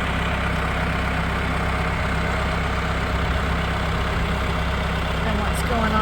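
A farm tractor engine idles steadily close by on a sheep farm, a constant low rumble that stays level throughout with no talk over it.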